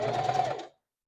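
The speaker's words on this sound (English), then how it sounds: "So I'm going to start stitching." A Singer 4423 heavy-duty sewing machine runs in a single short, close burst of rapid stitching that stops abruptly after about half a second, then silence.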